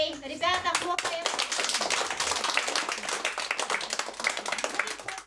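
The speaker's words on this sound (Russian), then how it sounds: "Ребята, хлопаем." A group of children claps together in a sustained, lively burst of applause after a short spoken line from an adult.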